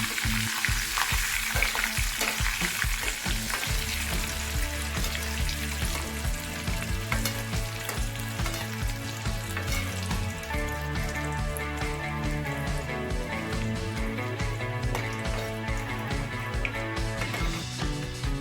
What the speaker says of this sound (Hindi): अब लास्ट बचता है हरा धनिया। इसका भी गीलापन खत्म हो जाए, बस उतना ही फ्राई करेंगे इसे।